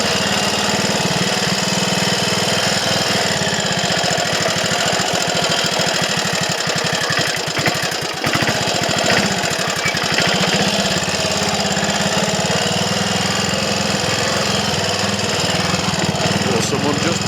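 A Triumph Tiger Cub motorcycle engine runs continuously on a sunny January ride along country lanes, a loud, steady, close buzzing thrum with slight shifts in pitch, and a rider's voice talks over it at times.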